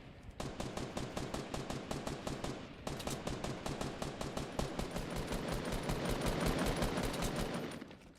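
Rapid automatic gunfire in a shooter video game, loud and close, with bursts of evenly spaced shots running almost continuously, one brief gap, then a denser stretch before stopping.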